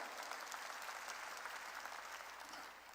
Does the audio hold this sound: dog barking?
no